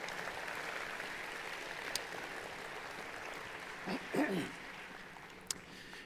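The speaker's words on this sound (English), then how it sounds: "Please join me in a round of applause for these individuals." Large audience at a Bowling Green State University summer commencement clapping in a big hall, soft continuous applause heard from a distance, with a brief louder rustle partway through.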